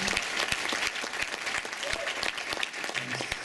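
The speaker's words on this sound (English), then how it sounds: "Big round of applause for my wife and my kids." An audience claps for a man's wife and kids at a teacher of the year event, dense steady applause from a crowd with distinct near claps, sustained throughout.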